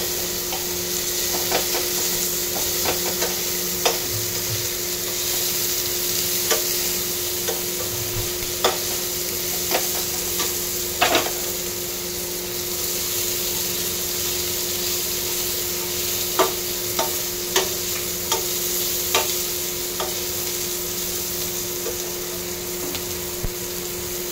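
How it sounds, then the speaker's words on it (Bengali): Mushrooms sizzle steadily in a hot pan while a spatula stirs them, with sharp scraping clicks scattered over a constant close frying hiss; no one speaks. "নেড়ে চেড়ে নেব।"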